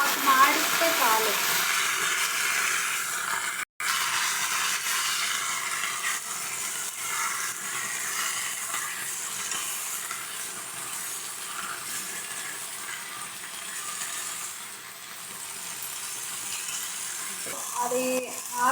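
Washed leaves wilt in a hot pan, giving a continuous soft hiss and sizzle that holds steady and then tapers slightly, with a brief clatter near the end.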